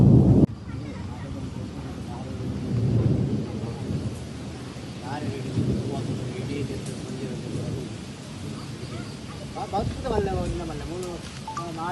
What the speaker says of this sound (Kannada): ಸಿಡಿಲು ಗುಡುಗಿನ ಸಮೇತ ಭಾರಿ ಮಳೆ ಆಗ್ತಾ ಇದೆ.